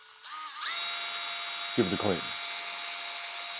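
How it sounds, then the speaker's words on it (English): A power drill runs at slow RPM, spinning a brass-coated steel wire wheel buffer. It gives a steady, close whirring hum throughout, with a short burst of speech over it midway. "we're going to turn it on and slowly, using the drill at a slow RPM like this"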